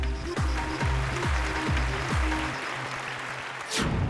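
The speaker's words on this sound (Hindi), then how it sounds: "जोरदार तालियों से स्वागत कीजिए कोमल सिंह का" A studio audience applauds a contestant onto the stage at a talent competition, with a steady wash of clapping over a loud pulsing musical beat that drops away near the end.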